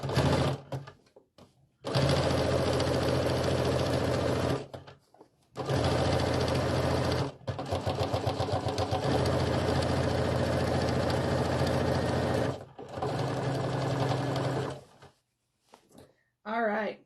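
Sewing machine doing fast straight-line quilting on a stripy snowflake pillow, loud sustained runs of rapid stitching in several long bursts separated by short pauses.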